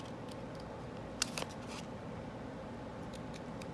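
Scissors make a couple of quick, faint snips into paper against a steady background hiss, with no talking.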